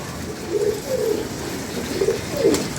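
Soft pigeon coos repeat about four times in a slow, even rhythm, close by, over a faint background hum.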